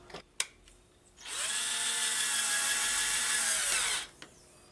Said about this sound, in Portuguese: Por mais que você tente furar, vai um baita trabalho aqui para você poder colocar o parafuso.